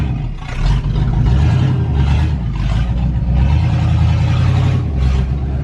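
A Corvette with no exhaust fitted roars extremely loud, its engine revving in repeated surges with a harsh, rattling bark, close and alone.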